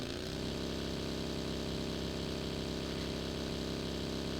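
Motorbike engine in the video game PUBG, a steady mid-pitched droning hum held evenly throughout, ending in a sudden sharp burst at the very end.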